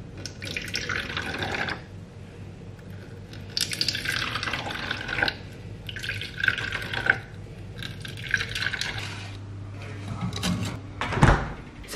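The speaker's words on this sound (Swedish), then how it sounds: "Det ska jag hälla upp i en isform." Freshly brewed coffee poured from a pot into an ice cube tray in a home kitchen, a splashy trickling stream broken into several short pours with a clack near the end, under quiet background noise.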